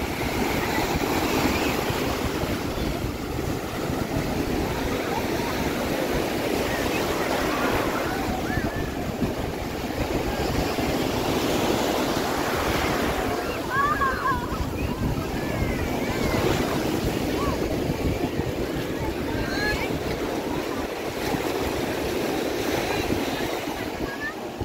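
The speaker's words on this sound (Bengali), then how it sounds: "খালি ঢেউটা দেখো, বিশাল বড় বড় ঢেউ আসছে" Large ocean waves breaking on Puri beach make a steady, loud, continuous roar of surf with wind buffeting the microphone throughout.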